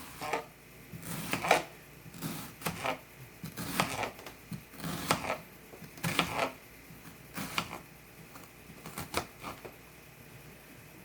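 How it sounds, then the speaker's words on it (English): Knife chopping an onion on a board, a faint series of irregular dry taps and cuts, some clustered in quick bursts, close with quiet background between strokes. "In the meantime, we're going to cut an onion."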